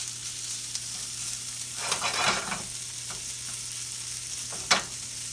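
Leftover Thanksgiving turkey breast slices warming in a hot pan, a constant close sizzle with a few bursts of louder spattering and scraping as the meat is stirred.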